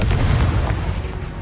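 A Confringo fire-blast spell exploding in a Hogwarts video game, a loud, deep, rumbling boom that sustains heavily for over a second without any talk.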